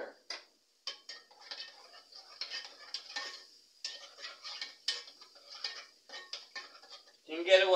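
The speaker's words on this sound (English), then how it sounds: "you have to constantly stir" Potatoes stirred in a pot, with soft repeated scraping and clinks of a utensil against the metal in an uneven rhythm, fairly quiet, ending with a louder clatter.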